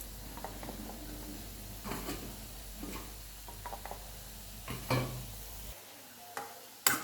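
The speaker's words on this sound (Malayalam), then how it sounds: "അരപ്പിട്ട് ഇനി നമുക്ക് ഇളക്കി കൊടുക്കാം" A ground paste of coconut, turmeric, cumin and green chili stirred into beetroot in a pan, quiet soft sizzling under intermittent spoon scrapes and light taps, close and faint, ending with a sharper clink.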